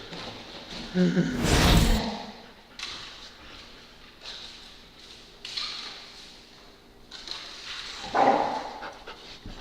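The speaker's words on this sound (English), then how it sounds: "Stupid dog will kill you." Dog in a video game panting and letting out a few short barks and whimpers, with louder bursts near the start and near the end over quieter background game sound.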